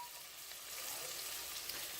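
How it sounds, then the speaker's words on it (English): Butter sizzles steadily in a hot pan, a soft, continuous crackling hiss with no pauses, fairly quiet and heard on its own. "it's starting to sizzle and get nice."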